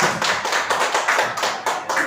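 An audience claps for a school principal at a primary school gathering, a brisk patter of many hands heard close and fairly loud for a couple of seconds, with no speech over it.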